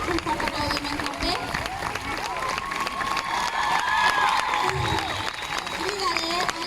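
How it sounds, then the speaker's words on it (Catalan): A crowd cheers and applauds for a contemporary dance teacher at a dance school's International Dance Day celebration, a steady, dense wash of clapping with shouts and voices rising over it throughout. "un fort aplaudiment també"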